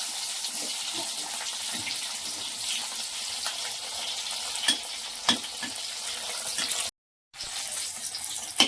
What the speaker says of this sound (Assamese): এতিয়া মই বেগুনবোৰ দুইফালৰ পৰা দেখিছেনে লালকৈ ভাজি লৈছো।